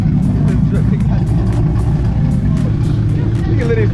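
A Corvette engine with an aggressive cam idles loudly and steadily, a deep lumpy rumble running throughout, with a person talking over it.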